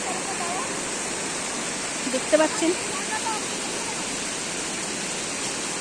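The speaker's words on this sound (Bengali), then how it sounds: "এখানে ঝর্ণার আওয়াজ শুনেই বুঝতে পারছেন যে স্রোত কত বেশি।" A waterfall and a strong river current on the path to Deb Kunda give a constant, loud, dense rushing roar that fills the whole span, with a short bit of speech briefly over it.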